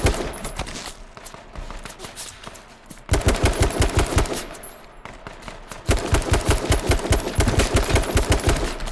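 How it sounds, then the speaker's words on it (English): Rapid automatic gunfire in a long-range gunfight in the H1Z1 battle royale game, with sustained bursts of loud shots that grow denser and heavier in two later volleys. "It's literally like the most long range of gunfight ever."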